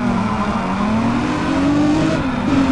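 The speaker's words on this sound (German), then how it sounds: "füttert diese Motoren, Leute" Car engines rev loudly and continuously in the Need for Speed: Pro Street racing game, with a steady droning pitch that climbs and dips under faint tire noise, close and uninterrupted with no talking.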